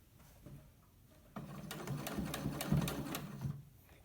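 Sewing machine stitching fabric for a face mask, a steady whirring run from about a third of the way in to near the end, with quiet pauses before and after.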